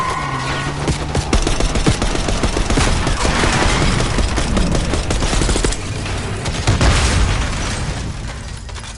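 Heavy gunfire in the Black Ops 6 video game, dense bursts of automatic shots mixed with booming explosions, loud and close in a continuous chaotic barrage.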